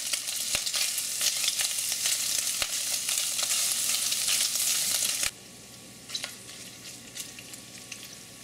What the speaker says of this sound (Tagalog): lulutuin natin itong longganisa ng tuluyan